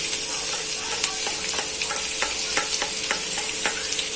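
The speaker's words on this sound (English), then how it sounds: "Oil is hot now. Now add the garlic," Garlic sizzles steadily in hot oil in a pan, a continuous crackling hiss with sharp spatter pops and occasional scraping stir strokes, close and alone with no talking.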